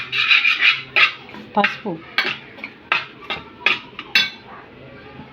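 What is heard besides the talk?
stirring mint, coriander and chillies for aloo biryani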